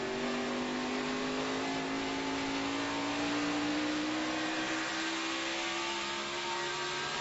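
A NASCAR Sprint Cup stock car engine is heard as the driver rolls on and off the throttle, a loud, continuous, close roar whose pitch climbs steadily. No one speaks.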